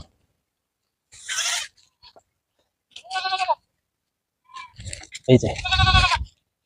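Black Bengal goat on a farm bleating in several short, wavering cries with gaps between them, the last call loudest and close, with brief talk nearby.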